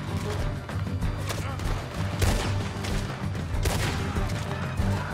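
Gunfire in Red Dead Redemption 2 during a shootout, rapid overlapping shots and loud cracking bursts that keep coming throughout, with a couple of sharper, heavier blasts standing out over a busy background mix.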